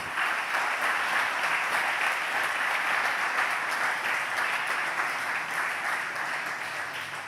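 A church congregation applauds together, a dense, even wash of clapping from many hands that holds steady for several seconds and eases slightly toward the end, with no talking over it.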